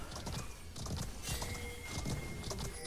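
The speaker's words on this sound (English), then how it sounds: "We just hear the trotting of a horse in the background." A horse trots in the background of a strategy video game, its clip-clop hoofbeats faint and steady with a few distant whinnies and soft thunks.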